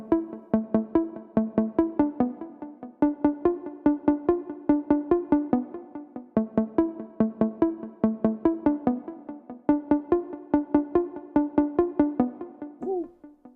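A plucky FL Studio hip-hop melody plays short repeated notes in a steady rhythm, each trailed by delay echoes and reverb, moderately loud and alone for over ten seconds.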